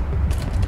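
A door creaking open in a horror video game, a short, close, grinding creak with a couple of rattling mechanical ticks.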